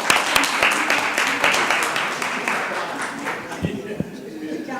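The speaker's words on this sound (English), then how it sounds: "Give them another round of applause, folks." Applause for honorees at a city council meeting, a crowd clapping loudly that gradually thins, with voices mixed underneath.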